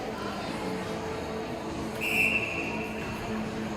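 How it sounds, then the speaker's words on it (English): Single sharp referee's whistle blast at a youth Bantam ice hockey game in Eagan Civic Arena, held for about a second over steady arena hum and distant crowd murmur. "And there's our whistle. Referee is ready at center ice."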